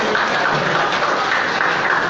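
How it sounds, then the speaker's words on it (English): Dense, steady applause from an audience at a Gratitude Day speech event fills the whole stretch at an even level, with no voices standing out. "Please give an applause to the person who named it."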